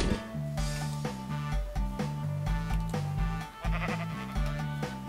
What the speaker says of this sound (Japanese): 羊だ。